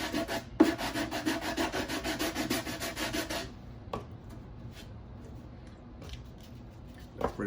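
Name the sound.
sanding a scale model sleeper body flush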